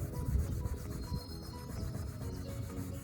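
Firm, steady rubbing and scrubbing against a plastic car headlight to break down dry residue, a faint close scraping texture that continues without pause.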